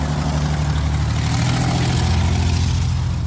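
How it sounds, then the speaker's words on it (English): Loud truck going past a Tesla supercharger site, a heavy, dense engine roar with deep low-end rumble that holds steady and swells slightly midway, with no voices over it. "that's a really loud truck"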